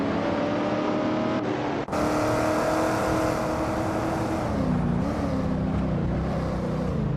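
A 1969 Shelby GT500 in a racing video game roars continuously at high revs, loud and close, with a brief gear-shift dip and small pitch changes as it races.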